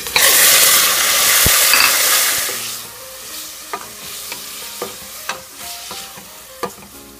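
Chicken added to a pan of frying onion and ginger for black arroz caldo: a loud close sizzle that fades, then sharp scraping clicks of a utensil stirring against the pan, no voices.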